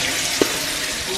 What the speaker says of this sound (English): Let me add water in that one.